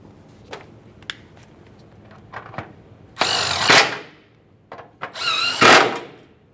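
Tool tightening 10mm mounting nuts on an O2 sensor bracket of a 2008-2017 Mitsubishi Lancer 2.4L, with scattered ratchet clicks and two louder bursts of buzzing mechanical whirring up close.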